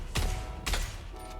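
Video game gunfire, two punchy muffled shots about half a second apart with short decaying tails, fairly quiet and without talk.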